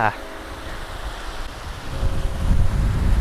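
Waterfall in the Wichita Mountains, a steady broadband rush of falling water close by, with wind buffeting the microphone and the roar growing louder toward the end.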